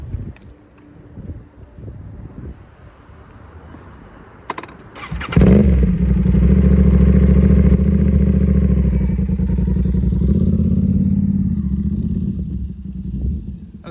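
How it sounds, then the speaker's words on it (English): An Aprilia RS660 motorcycle starts up after some handling clatter, then idles loud and close with a steady engine drone and a slight rise, with wind noise on the microphone. "So I'm gonna get on and take it for a ride and see what this dynamic is about."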